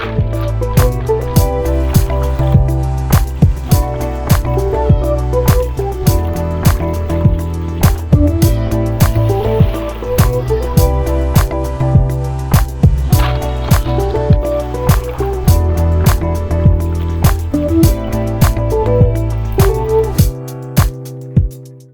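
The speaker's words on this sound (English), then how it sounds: "I went ahead to sieve out the water, washed multiple times until the water runs clear." Rice being washed in water and sieved for Nigerian native jollof, with wet swishing and sloshing under a loud backing of rhythmic music with steady beats throughout.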